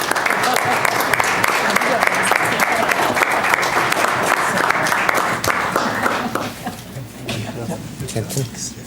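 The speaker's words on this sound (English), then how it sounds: "And I would say that they deserve clapping for that." Loud, sustained audience applause fills the room for several seconds, dense clapping that thins and fades toward the end, with a voice speaking over it at times.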